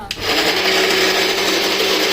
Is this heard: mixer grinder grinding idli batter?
yes